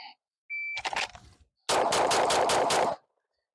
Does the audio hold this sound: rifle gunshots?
yes